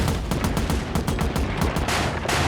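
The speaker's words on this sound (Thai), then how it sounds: "เออยิงไป อัดเข้าไป อัดเข้าไป อัดเข้าไป" Dense, loud gunfire from a free-to-play shooting video game, rapid automatic bursts packed together with no pause, close and continuous throughout.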